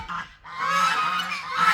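Geese and other poultry honk and call loudly on a farm in the morning, a dense chorus of overlapping nasal honks that dips briefly and then swells again.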